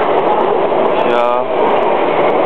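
A Taipei MRT subway train bound for Nanshijiao arrives at Taipei Main Station, a steady loud rumble and whine filling the platform throughout, with a brief voice speaking over it.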